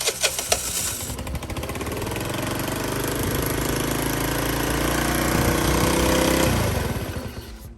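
A Taotao 49cc scooter engine starts after a few clicks and then runs steadily, a close, loud buzzing idle with a knocking pulse that continues for several seconds before dropping off.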